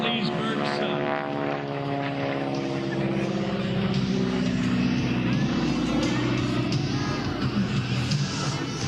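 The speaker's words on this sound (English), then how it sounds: "Talking about the model of the plane, North American Advanced Trainer 6, nicknamed the Texan" A North American T-6 Texan trainer airplane passes overhead at a Leesburg air show, its propeller engine a loud sustained drone with a throbbing rasp that swells, while a commentator talks over it.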